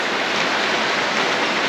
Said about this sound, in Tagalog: Umuulan sa labas.